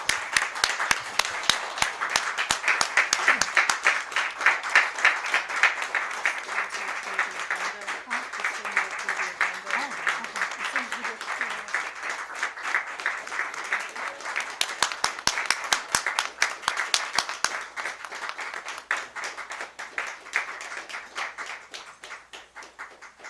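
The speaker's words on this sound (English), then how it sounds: "Let's give them a round of applause." A boardroom audience at a school board meeting claps for the Sumter High School girls' championship basketball team: sustained, crisp applause for over twenty seconds, strong at first and gradually tapering, with faint voices beneath.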